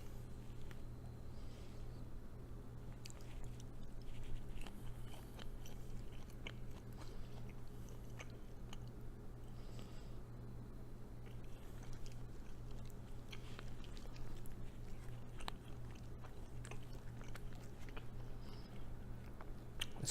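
Thinly sliced homemade speck prosciutto, cut on a meat slicer, being chewed close up: soft repeated biting and moist mastication sounds continue steadily over a low background hum, with no talking.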